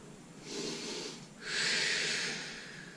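Two breathy exhales during a mat exercise class, the first soft and the second longer and stronger, each a close airy rush of breath through the mouth with no talking over them.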